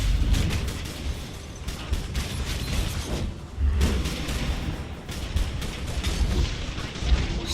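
Continuous rapid automatic gunfire from a chain gun in DC Universe Online, a dense rattling stream with heavy low booms running the whole stretch, loud and close.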